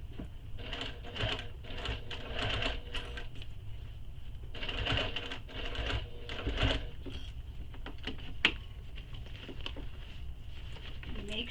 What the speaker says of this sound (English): Squish it up to get it under the presser foot and get this sewn.